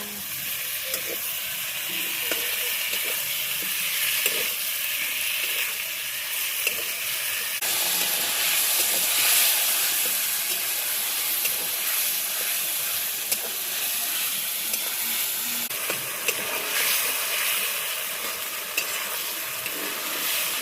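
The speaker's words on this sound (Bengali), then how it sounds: "দেখতে পাচ্ছ অলরেডি কষানো চলছে এখন আলু আর বেগুনটাকে ভালো মতো করে" Potato and eggplant fry in a wok while being stirred for a curry, giving a steady close sizzle and hiss with occasional scraping clicks, with no talk over it.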